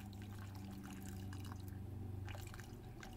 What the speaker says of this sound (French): Et ensuite, on va mettre à peu près un verre d'eau chaude.